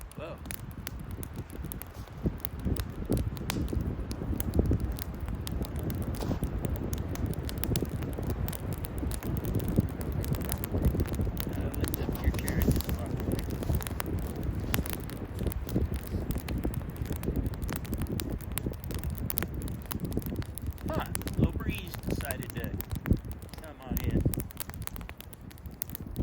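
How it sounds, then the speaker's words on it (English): Wind gusts across a snowy backpacking camp, rumbling and buffeting the microphone continuously and loudly, with rustling and crackling around it. "The wind is playing havoc right now."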